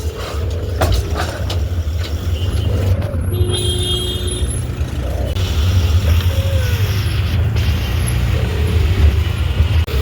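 An auto rickshaw drives along a road with a continuous rattling engine drone and traffic noise, loud and close throughout, with a brief higher-pitched tone partway through.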